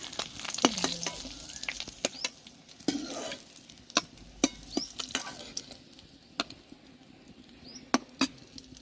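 Egg soybean cake fries quietly in a pan: a faint, steady sizzle broken by sharp spatula clicks and taps at irregular intervals.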